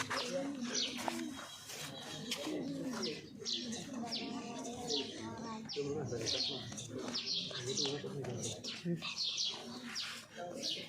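Pigeons coo in low, rolling bursts, close by and steady, with scattered sharper chirps from other birds mixed in throughout.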